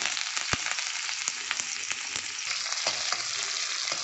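Sliced large onions, dried red chillies and curry leaves sautéing in hot oil, a close, continuous crackling sizzle with scattered pops and occasional sharp spatters, heard alone without voices.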